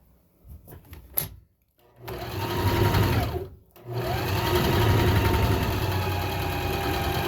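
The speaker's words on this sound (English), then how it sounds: "I waited a long time for this sewing machine" A sewing machine runs in two bursts of steady, fairly loud mechanical whirring, separated by short pauses, with faint clicks and handling noise before it starts.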